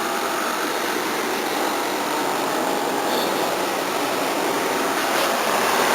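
A Toyota Camry engine idles in a garage, a loud, steady drone with constant hum and faint whine, unchanging for several seconds with no talk.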